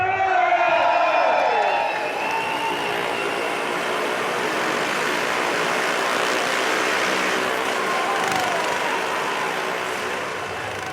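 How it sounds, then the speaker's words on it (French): Two motorcycles perform together on a wall of death at a Harley Days event: engines rev with rising, sweeping pitch at first, then settle into a steady, enveloping roar with a faint crowd beneath. "Une démonstration à 2 motos."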